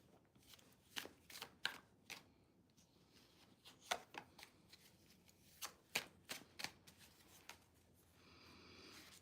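Tarot cards being shuffled by hand in a quiet room, a series of crisp riffling snaps and flutters in irregular bursts, close and fairly soft.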